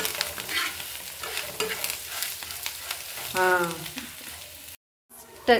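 Sliced ivy gourd sizzles in a pan as a stir-fry, close and steady, with scraping stirs throughout, a brief silent gap near the end, then more sizzling.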